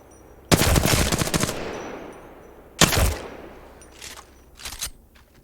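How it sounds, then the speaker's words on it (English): Weapon fire in a first-person shooter game: a long rapid burst of automatic shots, then a single sharp crack, followed by two fainter shorter bursts, loud and without talk. "Each shot is important as well as the weapon you hold"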